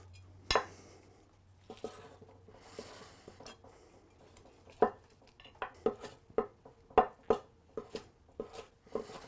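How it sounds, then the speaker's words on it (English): A knife cuts meat into rough chunks on a board, giving a string of crisp, irregular taps and clicks, sparse at first and then quicker and closer together. "Just take a knife, cut it up into whatever size pieces you want, really."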